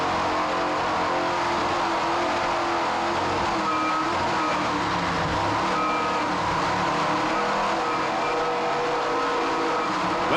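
Dense, constant engine roar from an offshore racing powerboat at the 1995 Jacksonville Offshore Grand Prix, heard onboard through the chicane, loud and unbroken with a slight wavering pitch and no voices.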